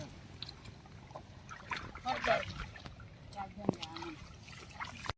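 Rain pours down on waterlogged paddy fields in Valsad district during a heavy monsoon spell, giving a steady wet hiss with scattered splashes and drips close by, while faint voices murmur in the background.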